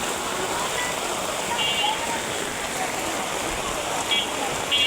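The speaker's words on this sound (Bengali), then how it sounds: "অনেক বৃষ্টি পড়তেছে, ভালো বৃষ্টি পড়তেছে।" Heavy rain pours steadily onto a road in Narayanganj, Bangladesh, a close, even hiss that runs throughout, with a voice faintly in the background.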